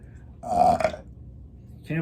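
A single drawn-out human burp, loud and close, lasting about half a second, followed by quiet and then the start of a voice at the very end.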